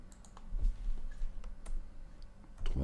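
Keys tapped on a computer keyboard while working in GIMP 2.10.18, a few scattered clicks ending with a firmer Enter press, close and fairly quiet over low room hum.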